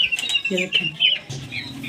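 Close pigeon sounds: a brief wing flutter and short coos and squawks, with a voice speaking quietly underneath.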